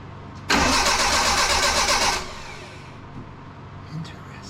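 Engine of a 1984 Bertone X1/9 with bad fuel injectors cranks loudly for about two seconds without catching, then settles to a low background hum, with a faint click near the end.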